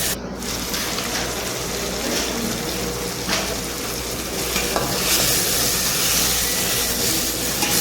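Chicken pieces get stirred with spices in a hot pan, a steady loud sizzle and scraping of the spoon running continuously without talk.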